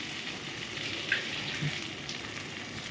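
Spices and turmeric sautéing in a pan for a Bengali fish-head curry, giving a steady, even frying hiss with faint scrapes, close and alone.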